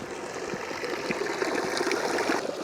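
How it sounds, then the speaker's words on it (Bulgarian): A village drinking fountain runs continuously, a close, even trickle and splash of flowing water with no pauses. "А тук има и чешма."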